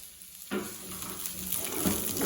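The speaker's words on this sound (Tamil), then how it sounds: "அதில் நான் சின்னதாக நறுக்குன வெண்டைக்காய், இந்த குழகுழப்பு இல்லாமல் இதை வதக்கிக்கணும்." Finely chopped okra (ladies' finger) hits a hot pan and sautés with a sudden loud sizzle that holds steady and swells slightly, close and alone.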